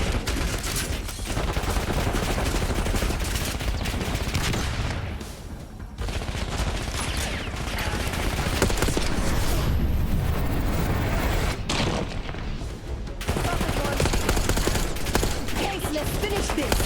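Sustained, loud gunfire in Call of Duty: Black Ops 6 combat, dense bursts and volleys running almost continuously with only brief dips, no talk over it.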